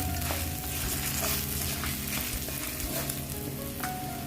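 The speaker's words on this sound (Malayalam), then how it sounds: "ഇനി ഈ പുളിക്ക് ഈ പുളി ഒന്ന് ഇതിൻ്റെ ഒപ്പം നന്നായിട്ട് ചൂടാവണം" Tamarind sizzles steadily in a hot pan with salt while varutharacha chammanthi, a roasted coconut chutney, is being prepared. The frying crackle is close, continuous and fairly loud, with no talking.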